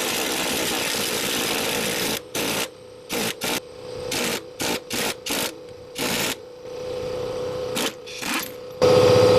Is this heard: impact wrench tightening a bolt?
yes